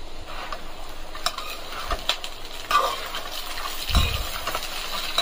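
Green chillies, curry leaves and coconut roasting in a pan for garlic poha chivda, with a steady low sizzle, occasional stirring scrapes and a couple of louder clatters.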